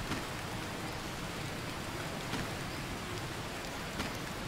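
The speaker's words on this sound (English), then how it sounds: "It's raining again." Rain in the survival video game Green Hell, a dense, even downpour hiss with occasional heavier drop spatters, constant and fairly loud with no voices.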